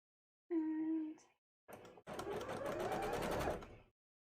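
A sewing machine stitches a petticoat for a cosplay costume, sounding as a short hum, then a brief burst and a longer steady run of fast rhythmic stitching, close and fairly loud with no talk.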